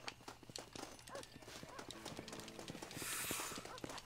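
Hooves pound rapidly as a horse gallops in the western video game Red Dead Redemption, close and continuous, with a voice talking over the rhythmic clip-clop and a brief burst of wind-like noise.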